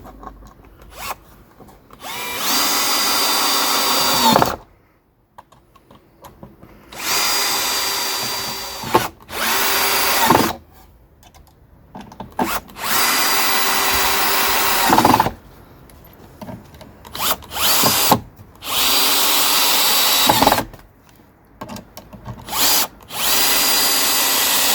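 Power drill driving fixings to secure a bee hotel framework to a wall, several loud multi-second whirring bursts separated by short pauses with small clicks and handling noises, close up and without talk.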